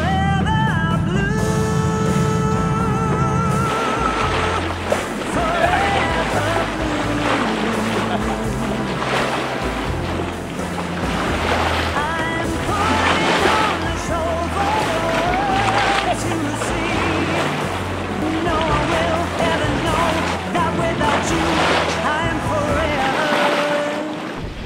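A sailboat heads out into the open ocean on an offshore Gulf Stream passage from Florida toward Rhode Island. Wind and rushing waves fill the sound with a steady roar, under a low rumble and brief tonal sounds at the start.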